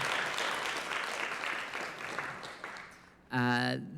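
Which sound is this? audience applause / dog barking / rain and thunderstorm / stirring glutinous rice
audience applause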